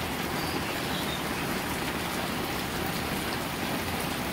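Heavy rain falling steadily on a village, a dense, constant wash of hiss and patter with no breaks, close and fairly loud throughout.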